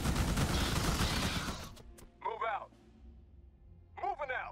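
Gunfire in the Starship Troopers: Terran Command strategy game, a dense, loud barrage of shots that cuts off, followed by sparse softer game sounds and brief bursts of voice.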